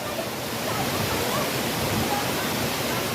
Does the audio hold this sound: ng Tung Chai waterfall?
yes